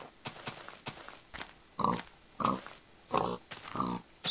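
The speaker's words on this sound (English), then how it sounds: "Just killing pigs." Pigs in the Minecraft video game grunt in a series of short, distinct oinks at a steady rhythm, fairly close and moderately loud, with game clicks between them and no talk.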